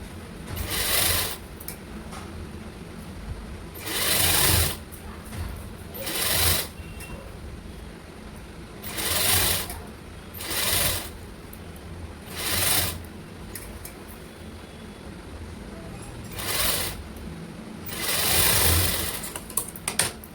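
Electric sewing machine stitching a lined red blouse, several short bursts of rapid whirring stitches separated by pauses and faint handling sounds, close and moderately loud, no talking.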